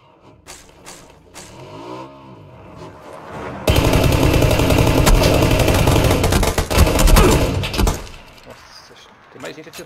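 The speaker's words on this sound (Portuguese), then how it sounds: "Mais gente atirando de longe." Rapid automatic gunfire in the shooter game PUBG, loud bursts of shots running for about four seconds, with a voice talking before and after.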